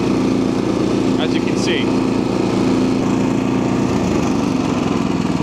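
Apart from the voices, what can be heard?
Honda HSS1332 snowblower engine running in deep snow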